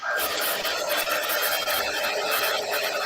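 Heat embossing gun blowing hot air over a mosaic craft project: a steady, loud, hissing fan-and-air roar that runs unbroken the whole time, with no talking.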